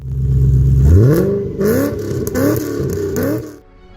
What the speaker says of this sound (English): let's not forget that glorious, earth-shaking exhaust note